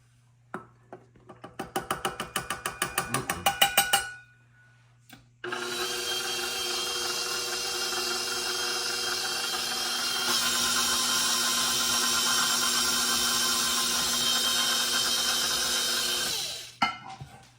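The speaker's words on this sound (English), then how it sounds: "That's why I'm shutting the mixer off in between each scoop, because you don't want to over mix it" Stand mixer beating New England hermit cookie dough: a short burst of rhythmic whirring, a pause, then a long steady motor hum that rises slightly in speed before stopping, with no talk.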